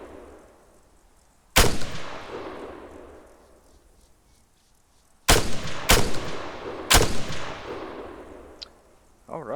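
Rifle shots in the ArmA 3 video game, fired at targets about 800 meters away: four loud, sharp cracks, one early and three close together later, each followed by a long, echoing rolling tail.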